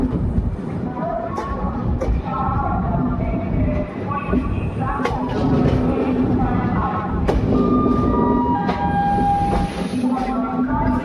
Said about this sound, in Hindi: 19404 WAP7 लोकोमोटिव के साथ दिल्ली बुध सुपरफास्ट